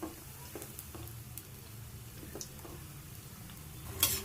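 Gulab jamun frying in oil on a medium flame, a faint low bubbling sizzle with soft scattered ticks and pops, quiet and steady throughout.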